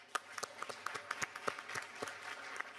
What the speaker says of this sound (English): So I think we should give them a big applause for that.